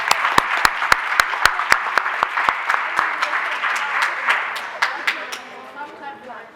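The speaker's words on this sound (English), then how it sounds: "Please give another round of applause to our students of the month." Applause for students of the month at a school advisory board meeting, led by one close, loud, evenly paced clapper over softer crowd clapping that slowly fades into scattered claps.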